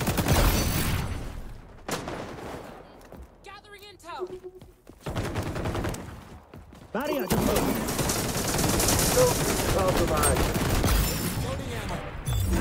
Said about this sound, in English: He's gonna shotgun me!